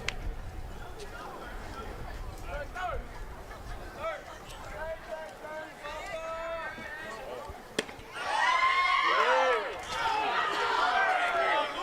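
Baseball crowd at a game booing and shouting in displeasure at an umpire's call, a rising roar of voices that swells loudly in the latter half after an announcer talks over quieter stadium noise.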